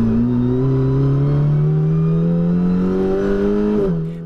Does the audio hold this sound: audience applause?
no